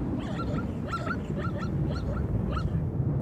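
Weak, plaintive calls from a lame zebra foal, repeated in a series of short high cries over a steady low wind-like rumble in an open outdoor setting.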